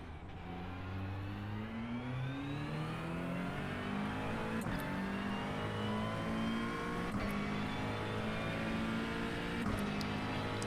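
Race car engine in an endurance racing video game, revving steadily with rising and falling pitch as gears change through a corner, loud and continuous with no talk.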